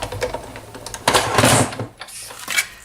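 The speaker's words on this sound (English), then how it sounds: "now we need to get our Big Shot or cutting machine out again" A Big Shot die-cutting machine runs as paper for a witch's hat candy box is fed through, giving a close mechanical clatter and grinding of rollers with a louder surge midway, no talk.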